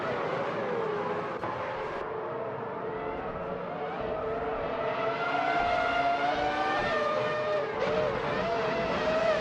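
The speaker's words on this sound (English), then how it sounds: "Bot Brando Buster is driving a Jordan EJ10, a car known for its balanced handling and decent aero package" A Jordan EJ10 Formula One car in a racing video game, its high-revving engine whining loud and continuous, pitch climbing through gears with brief drops at shifts, no speech.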